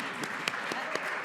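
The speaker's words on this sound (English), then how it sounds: "I knew that would get a round of applause" An audience at a panel discussion on biodiversity and the media breaks into brief applause, a short burst of scattered claps.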